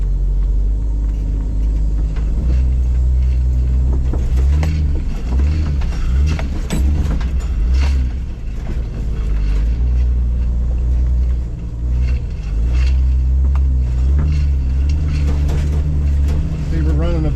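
A 1996 Jeep Cherokee in 4-wheel drive with no lockers crawls slowly along a dirt trail, its engine a steady, loud low rumble that holds on throughout with small fluctuations and no voices over it.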